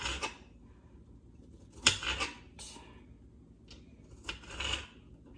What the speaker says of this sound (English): I'm just going to just cut them in slices